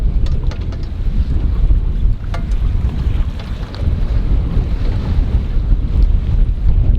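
Heavy wind buffets a microphone on a boat dock, a loud, continuous low roar with gusting swells and faint splashing from the water, and no voices.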